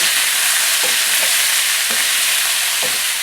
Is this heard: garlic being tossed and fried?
yes